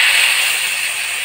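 Urad dal batter hits a hot tawa griddle with a loud, steady, hissing sizzle that stays even and close throughout, no voices.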